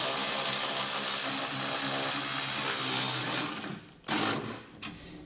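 A power tool snugs down trailer hitch bolts on a 2024 Hyundai Santa Fe, giving a steady, loud, close high-pitched whir for over three seconds that then slows and stops, followed by a brief second burst.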